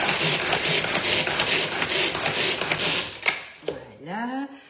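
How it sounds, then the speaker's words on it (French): A Tornado manual food chopper crushes speculoos with a dense, rapid clatter of blades and crumbs. The rattling stops after a few seconds, and a brief voice follows. "On pose la main dessus et on va donc mixer."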